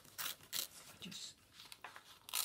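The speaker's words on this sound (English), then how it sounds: "rip that strip off so I can get my punch in closer and get the colour that I want" A paper strip is ripped off by hand while making press stud flowers, giving a quiet sequence of short tearing and crinkling bursts close by.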